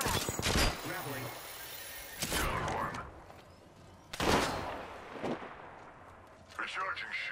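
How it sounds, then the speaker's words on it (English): Heavy gunfire and blasts in a ranked-mode video game match, several loud booming shots spaced a second or two apart, each trailing off in a long rumbling tail, with game voice lines between them. "Opening fire."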